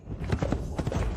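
Hooves of a horse being ridden clip-clop in a quick, steady rhythm, close and fairly quiet over a muffled outdoor background.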